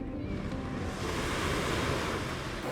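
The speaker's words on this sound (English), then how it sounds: "Last night we could hear the waves crashing." Ocean waves crashing near a beach campsite about twenty meters from the water in a Mexican resort town: a loud, continuous roar of surf with wind buffeting the microphone, and no voices.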